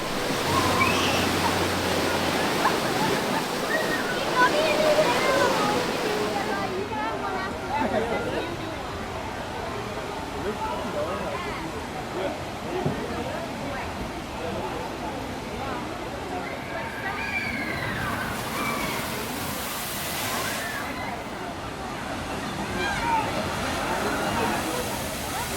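Water splashing and rushing around riders on the Mystic River Falls water ride at Silver Dollar City, a loud continuous roar and slosh of spray with crowd babble and riders' voices throughout.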